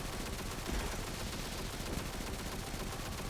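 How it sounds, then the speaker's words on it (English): Automatic weapon fire from a machine gun in the video game Destiny 2, a dense, continuous rattle of rapid shots that stays loud and steady throughout with no talk over it. "Let's get him with the machine gun now"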